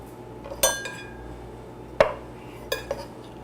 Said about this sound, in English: I'm going to slice these in half